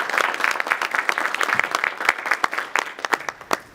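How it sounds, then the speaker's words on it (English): A panel audience applauds the Gates Foundation at an education-through-technology event. The clapping is moderately close and starts dense, then thins toward the end into a few scattered individual claps. "let's give the Gates Foundation a round of applause"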